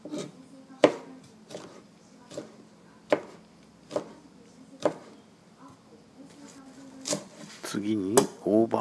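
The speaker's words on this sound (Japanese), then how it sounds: "次にソーセージを3本ですね。 これも細切りにしていきます。" A knife chops sausages into thin strips on a cutting board, giving a series of sharp, distinct knocks at an uneven pace, with louder, busier board sounds near the end.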